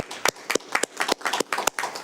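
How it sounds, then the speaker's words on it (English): A small group claps for a couple at a county board of supervisors meeting, a brief patter of sharp, uneven hand claps heard up close with little else around. "if we could give them a round of applause"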